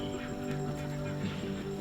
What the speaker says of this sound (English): this is going to be the final week for the broad-breasted turkeys